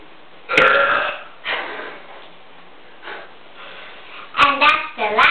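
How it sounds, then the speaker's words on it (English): Several loud, close burps from children in a home burping contest, coming in separate bursts with pauses between them, two strong ones at the start and a cluster of quick belches near the end, with breathy sounds in between. "We're going to have our own burping contest."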